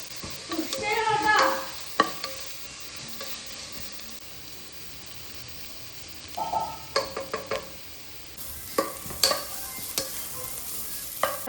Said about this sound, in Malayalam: ചെറുതായി അരിഞ്ഞു വെച്ച സവോള ഇടുക.